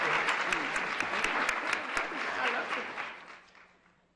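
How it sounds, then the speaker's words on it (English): An audience at a community breakfast event claps for the panelists and moderator, a dense, close burst of applause that holds steady for a few seconds and then trails away. "Let's give our panelists and Diana Robertson, our moderator, one more hand of applause."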